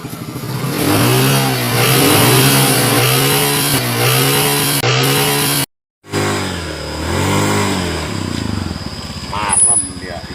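Motorbike engine starting and revving, loud close rhythmic rises and falls of a mid-pitched engine, cutting out briefly then firing up again, with people talking over it.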